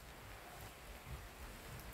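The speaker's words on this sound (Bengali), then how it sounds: "বৃষ্টির যে একটা শব্দ, মানে টিনের ঘরের একটু বেশি ভালো লাগে এই শব্দটা।" Steady rain drums on a tin-roofed house, a dense unbroken patter that stays even and fairly close throughout, with no voices.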